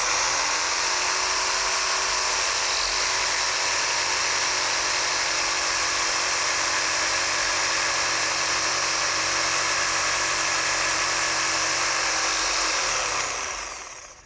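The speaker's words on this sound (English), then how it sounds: "I'll make those notches for my rails starting with my jigsaw" A jigsaw cuts notches in wooden stock for the rails of a Shaker step stool, running as one loud, continuous buzzing whine close by before winding down and stopping right at the end.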